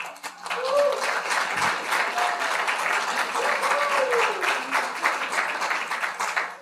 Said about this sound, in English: Not sure what you're clapping for